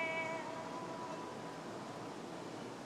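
A cat gives a short, fairly clear meow in the opening second, then fades into a steady background hiss with no further calls.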